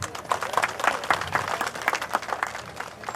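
An audience at a groundbreaking ceremony for a residential school in Malkapur claps in a fairly quiet, scattered patter, with individual claps audible and faint crowd murmur underneath.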